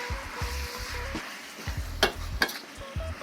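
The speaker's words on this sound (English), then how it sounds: "we're just gonna let it simmer at low heat" Blended white and red onion, garlic and candlenut rempah cooking at low heat for a Malaysian chicken curry, a soft continuous sizzle with intermittent bubbling pops and a couple of sharper clicks of a utensil.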